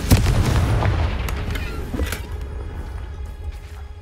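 A Confringo spell explodes in the Hogwarts video game with a loud booming blast at the start, followed by a rumbling decay and a few smaller crackling pops.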